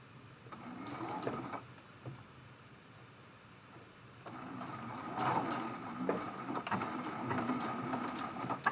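A sewing machine stitches a quilt block seam in two runs, a rapid mechanical whirring hum that pauses briefly before starting again louder and continuing to the end.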